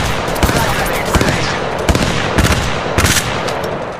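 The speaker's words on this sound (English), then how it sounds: "Contact with hostile. I'm taking fire. Contact with target. Shots fired at me." Gunfire in the Apex Legends video game, loud and close, with rapid automatic bursts and sharp repeated shots over a dense, noisy battle background, while a voice speaks briefly.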